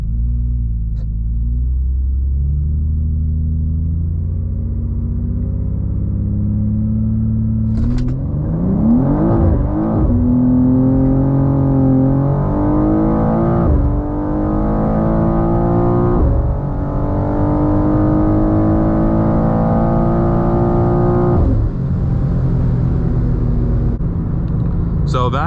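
BMW M2 CS (G87) accelerating hard with wheelspin through first, second and third gears, a loud engine rising repeatedly in pitch with each gear change, heard from inside the car under intermittent talk.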